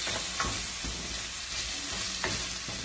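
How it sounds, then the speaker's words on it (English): Onion stir-frying in a reheated pan for noodles, a dense steady sizzle with a few sharp scraping strokes of the utensil, close up and no talking. "I'm going to add in some onion. And we're going to stir this until it is fragrant"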